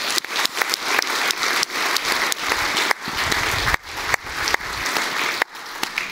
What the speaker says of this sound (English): Give also them a warm welcome and a round of applause.